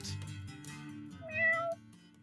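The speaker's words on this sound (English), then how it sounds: "More cats!" A cat meows in the video game Dwarf Fortress, a single drawn-out, clear meow that rises in pitch near its end, heard alone.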